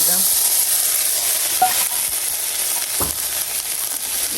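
Dried red chillies and garlic fry in a hot wok, giving a steady, close sizzle and hiss with a few faint clinks of stirring throughout.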